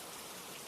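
Steady rain falling, a soft, even wash of drops with a faint trickle of running water, continuous and alone with no voices.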